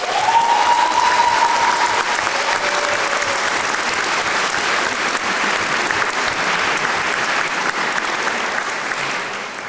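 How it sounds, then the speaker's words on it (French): Warm, sustained audience applause at an evening of pleading speeches, loud and dense clapping that carries on steadily for nearly ten seconds before easing slightly, with a brief voice at the start. "Je vous demande d'applaudir chaleureusement"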